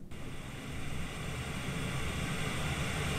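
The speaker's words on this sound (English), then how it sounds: "Here's the sound of white noise." Steady white noise used to mask noisy guests, a constant broadband hiss that runs loud and unbroken from start to finish with no voices.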